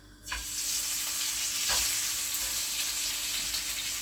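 Oxtail meat searing in a hot pan, starting with a sudden hiss as it lands, then a bright steady sizzle close by with a brief clatter, no speech.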